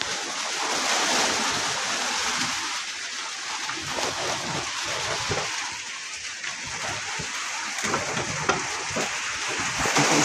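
Steady heavy rain hisses across surfaces, a broad continuous wash with a few louder drops and patters, fairly close and without voices.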